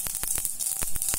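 Mustard seeds and cumin tipped into hot oil for tempering a Tamil ragi masala breakfast dish, crackling with sharp, irregular pops over a faint steady sizzle.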